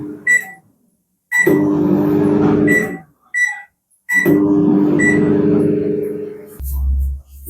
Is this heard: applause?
no